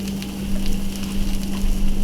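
Onion and garlic patties fry in a skillet with a steady, loud, close sizzle that crackles throughout and has no talking over it.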